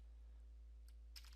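Keystrokes on an HP 15s laptop keyboard, a quiet faint burst of a few close taps near the end after near silence.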